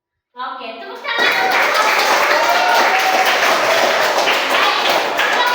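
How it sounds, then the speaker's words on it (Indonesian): Classroom applause after a random group draw, beginning as a brief burst of claps and swelling into steady, dense clapping from many students that holds close and loud throughout. "Oke, tepuk tangan."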